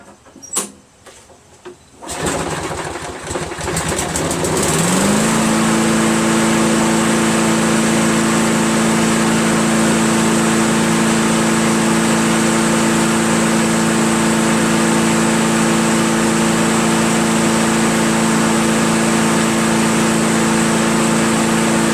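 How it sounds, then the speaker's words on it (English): Craftsman push lawnmower fitted with a Quantum engine starts after a few seconds of handling noise and then runs steadily and loudly, a constant close engine drone with no talking. "Runs pretty good, huh? Tell you, man, these quantum engines are incredible."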